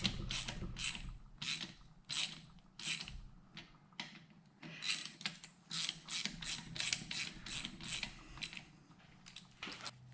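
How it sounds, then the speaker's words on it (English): A ratchet wrench clicks as it tightens the bolts on a starter motor end cap of a 659 engine, in quick bursts of close metallic ratcheting with brief pauses between strokes, no talking. "Tighten these to 30 Newton meters."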